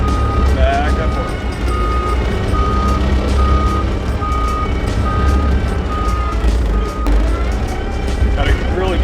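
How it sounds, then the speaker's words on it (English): A John Deere 333G skid steer grading a house lot, its loud diesel engine droning steadily close by as a reversing alarm beeps repeatedly at an even pace. "Pretty big, good sized skid steer right here."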